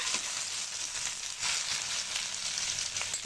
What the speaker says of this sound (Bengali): চালতাগুলো দিয়ে আমি 2-3 মিনিট এভাবে ভেজে নিব তেলে।